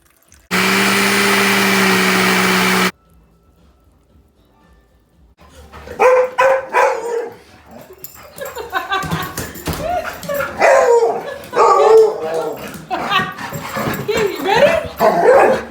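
Dogs bark and yip in repeated bursts, mixed with whimpers, while people talk nearby. A brief loud whirring appliance sound comes first, then a short pause.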